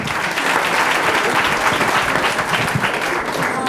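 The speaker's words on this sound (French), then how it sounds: "Applaudissez-le, s'il vous plaît." Applause from a seated audience at a Charente-Maritime oyster-opening competition, a steady dense wash of clapping filling the whole stretch without pause.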